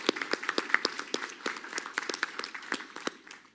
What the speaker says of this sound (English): I would like to honor our guest by clapping for him.